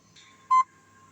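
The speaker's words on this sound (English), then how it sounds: "we should see a contact alarm once the water is evaporated from it." A single short electronic beep from the contact alarm of a Primo EMS860 combination ultrasound and stimulation unit as the water dries from the transducer, clear and close against a faint steady hum.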